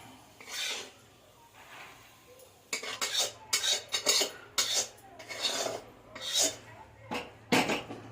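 Boiled potato and cabbage go into a pressure-cooker pot of khichuri, heard as a series of close, loud metal spoon scrapes and clatters against the pot that come in uneven bursts, with no talking.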